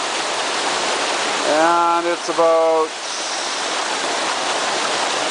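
Steady rushing water spills over the stepped drop of a creek dam, a constant broadband roar that lasts throughout while someone talks briefly in the middle.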